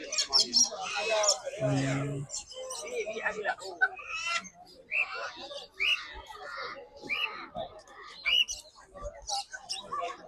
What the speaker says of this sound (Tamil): என்னது இது ஏதோ விசில் அடிக்கிற சவுண்டு கேட்குது அந்த கிளி அந்த கிளி